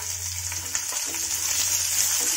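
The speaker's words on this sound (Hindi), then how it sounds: "प्याज हमारा लो फ्लेम में भून रहा है" Finely chopped onion and chilli frying on a low flame for a sweet-and-sour apple curry, a soft continuous sizzle with light stirring scrapes, close and without talk.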